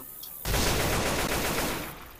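Heavy, continuous gunfire from Left 4 Dead 2 during the Dark Carnival campaign, a dense, loud roar of overlapping shots sustained for about two seconds.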